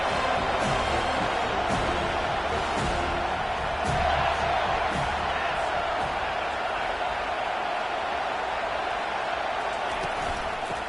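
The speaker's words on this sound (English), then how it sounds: "This crowd trying to make life miserable for this offense." Stadium crowd noise in the College Football 25 video game during an LSU matchup, a steady dense roar of cheering fans throughout, with a brief swell midway.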